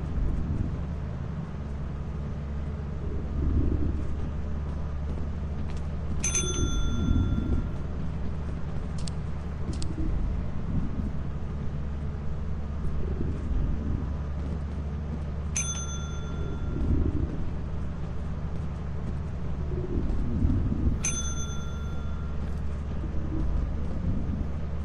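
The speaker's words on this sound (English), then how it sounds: "you can't fucking ding the bell many times" Bright metallic bell dings sound three times in a League of Library-style online game match, spaced several seconds apart over a low steady background hum, with no talking.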